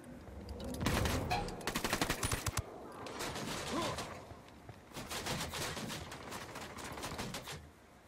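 Gunfire in the tactical shooter Ghost Recon Wildlands: bursts of rapid automatic shots come in clusters, separated by quieter gaps with muffled background game noise. The gunfire is moderately loud and has no speech over it.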